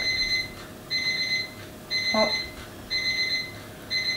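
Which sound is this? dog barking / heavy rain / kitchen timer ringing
kitchen timer ringing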